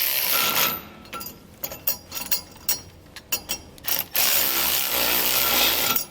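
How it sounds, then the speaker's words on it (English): A 9/16 socket on a ratchet snugging down bolts while fitting a Timbren rear suspension enhancement system on a 2020 vehicle: a series of sharp, close ratcheting clicks in quick bursts, with steady background noise between. "We'll now use a 9/16 socket to snug these down."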